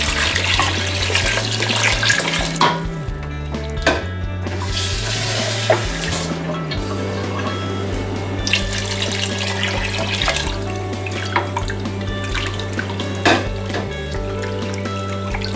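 Tap water runs steadily into a pot, eight cups for an Ecuadorian tamale broth, a loud continuous gushing stream with slight shifts in pitch as the pot fills.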